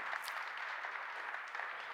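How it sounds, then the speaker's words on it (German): Audience applause at a Volkswagen press conference at the IAA motor show in Frankfurt: a soft, even patter of many hands clapping, fairly distant and continuing throughout without talk. "Das ist ein Applaus wert."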